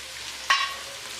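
Tomatoes, green chilies and bell pepper fry in a pan for chicken pasta, giving a soft, steady sizzle broken by one short scraping stir.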